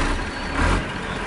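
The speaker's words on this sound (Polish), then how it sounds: "teraz bierzemy sobie naszego ciągnika" A tractor engine runs in the Farming Simulator 2013 video game, a steady, loud, broadband mechanical drone with a slight swell midway and no pauses.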